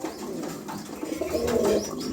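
Healthy blue and silver pigeons cooing together, a dense low burbling chorus of overlapping coos that swells louder toward the middle, close by, with no talk.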